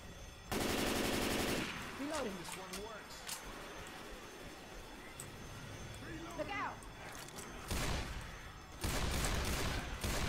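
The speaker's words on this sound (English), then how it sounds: "Suckers! Hear my bullets!" Rapid automatic gunfire from Left 4 Dead 2 comes in loud, dense bursts: a long volley near the start and two more near the end. Someone talks excitedly over the quieter stretch between them.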